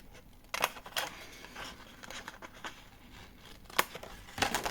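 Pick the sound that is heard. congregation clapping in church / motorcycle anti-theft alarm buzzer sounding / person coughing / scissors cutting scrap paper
scissors cutting scrap paper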